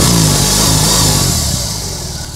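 A BMW R18 Transcontinental motorcycle with a 1802 cc boxer engine revs close by, a loud deep throbbing roar that holds steady and then eases slightly as it fades, with no voices.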